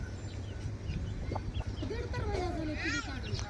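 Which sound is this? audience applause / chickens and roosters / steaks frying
chickens and roosters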